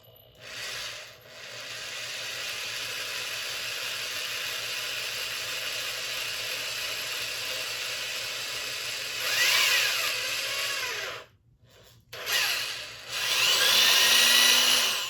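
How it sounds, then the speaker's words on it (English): A power drill widening a hole runs steadily for several seconds, whining and grinding through material, briefly stops, then starts up again with a sharper rising whir. "So let me get my drill out for that."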